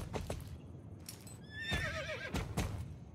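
Horse neighing in the video game Star Stable Online: a quick, high whinny with wavering tone, alongside hoof clip-clops and a few sharp knocks, moderately close with no talk.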